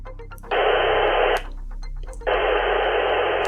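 Two-way radio monitoring an analog channel with squelch open, giving two bursts of loud, steady hiss separated by a short pause, close and unvoiced.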